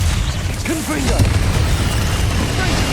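A Confringo fire-blast spell explodes in Hogwarts Legacy amid steady combat noise, with a burst of crackling, booming impact that sustains through the battle as a voice shouts over it.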